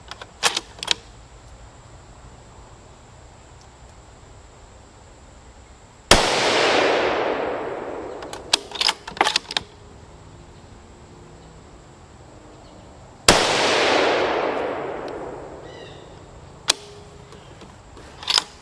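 Two loud, sharp M40A5 sniper rifle shots ring out several seconds apart in the open, each cracking sharply and then rolling away in a long fading echo, with small clicks and handling noises between them and no talk.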